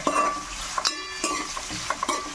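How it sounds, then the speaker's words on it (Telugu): Sliced onions fry in hot oil in a pan for a Nellore-style fish curry, with a soft sizzle broken by several sharp scrapes and clinks of a spatula stirring against the metal. "కర్రగా వేగేదాకా ఉల్లిపాయలు తిప్పుకోవాలి"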